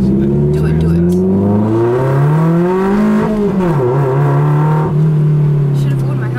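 A car engine revs up under acceleration from inside the cabin, its tone climbing steadily, dipping briefly at a gear change, then holding a strong drone; people talk over it.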